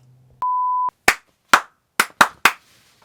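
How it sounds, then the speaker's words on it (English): Hands clapping: five sharp, separate claps in quick succession, loud and close, following a steady electronic beep with no talking. "nice little clap we got"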